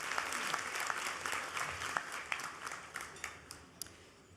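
An audience at an annual convention applauds steadily, and the clapping tapers into a few distinct, sharper claps near the end.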